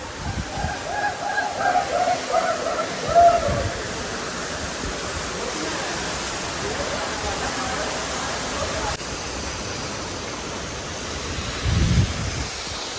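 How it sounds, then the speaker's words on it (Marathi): Rushing water of a waterfall in the Sahyadri hills at Khopoli roars continuously as a broad steady wash, with faint voices in the background. "कसला भारी वॉटरफॉल आहे बघा"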